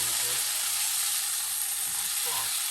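A leftover-roast birria taco fries in a hot pan, a steady close sizzle with bubbling hiss and faint voice traces underneath.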